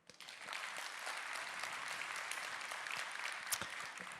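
Conference audience at a congress event claps loudly in a steady, dense burst of applause for about four seconds, with no one speaking over it.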